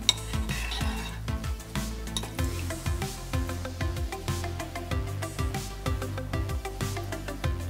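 Cooked tapioca pearls (boba) being mixed with sugar in a bowl, a steady run of soft scraping strokes and light utensil clinks, close and moderately loud, with no talking.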